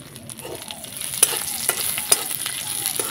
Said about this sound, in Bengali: বাদাম আর কিশমিশটাকে আমি ভালো করে একটুখানি ভেজে নেব।